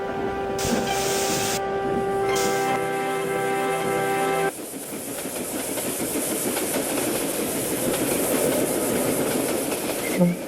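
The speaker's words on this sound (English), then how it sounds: "He blew his whistle and then he set off from the main line." A train engine sets off along the main line, with a sustained tonal whistle-like blast for about four seconds over a steady hiss, then a continuous rumbling, clattering roll of wheels on track that carries on steadily to the end.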